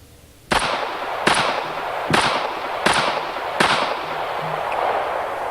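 Five sharp gunshots from a shooting session ring out alone at roughly even intervals, each a loud broadband crack followed by a short decaying tail, with no talking in between.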